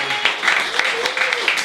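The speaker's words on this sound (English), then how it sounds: "Let's have a big round of applause, everyone" An audience in a small living-room music venue in Newcastle upon Tyne claps in a short burst of applause, a bright patter of hands with faint voices mixed underneath.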